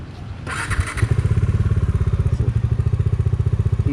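A motorcycle being brought inside through a gate in Phnom Penh, Cambodia, its engine catching and settling into a steady, throbbing idle, loud and close, with a few clunks at the start.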